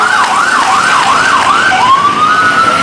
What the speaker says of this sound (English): followed by the Morrisonville Schuyler Falls Ambulance Service